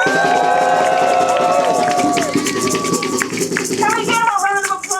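Rally crowd in support of Haitian Women for Haitian Refugees, a loud, dense wash of voices and cheering that stays steady and then thins toward the end, with scattered shouts.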